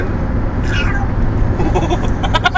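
A boy making a mouth noise imitating a cross between a cat's meow and a fart, a short wavering squeal followed by rapid sputtering pulses, close and fairly loud.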